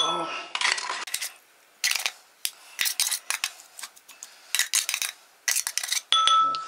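A knife scrapes kasha out of a Kazakhstan 24-hour ration pack into a bowl, making a series of sharp metallic scrapes and clinks in uneven bursts, close and fairly loud.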